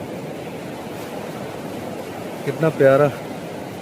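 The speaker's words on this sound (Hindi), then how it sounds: "और ये पानी वाला साउंड सुनो" River water rushes steadily at Karnaprayag in the Himalayan hills, a broad, continuous roar of flow; near the end someone speaks briefly over it.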